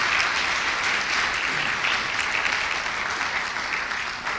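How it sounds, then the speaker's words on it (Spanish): A church congregation applauds during a Sunday morning Spanish-language service, steady close-packed clapping that stays moderately loud for several seconds without a break. "¿Cuántos le pueden dar un aplauso al Señor esta mañana"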